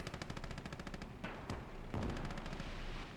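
Sustained machine gun fire pummels a position in the Gates of Hell: Ostfront battle, rapid evenly spaced bursts rattling over a continuous din of distant gunfire and explosions.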